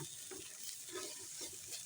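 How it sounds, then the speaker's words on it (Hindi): Green onions and vegetables lightly roasting in a pan give a continuous soft sizzle with gentle stirring scrapes at a steady, low level. "बिल्कुल हल्का सा इन्हें रोस्ट करेंगे"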